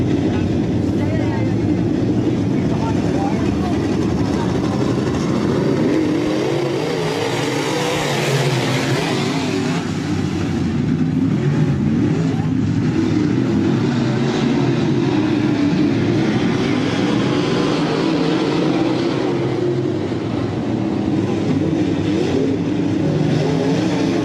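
Modified division race cars roar around the track in a heat race, a steady dense engine drone that swells and recedes as the pack passes, loud and continuous throughout.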